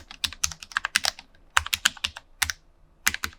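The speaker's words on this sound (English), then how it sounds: "So let's give this keyboard a sound test." A full sentence typed on a Cherry MX LP2.1 compact wireless low-profile gaming keyboard, a steady run of close, crisp keystrokes with brief pauses between words and a final pair of taps after a gap.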